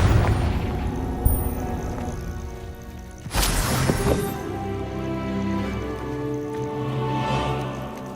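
Confringo fire spell blasting in the Hogwarts Legacy video game, a sudden loud boom midway that cuts through a steady layer of game music and ambience, trailing off into a rumbling decay.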